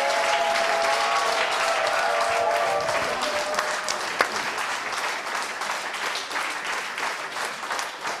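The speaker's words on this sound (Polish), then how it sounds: "Publiczność szaleje, domaga się bisów." A theatre audience applauds a performer with loud, sustained clapping that fills the room, steady throughout and slowly easing off toward the end.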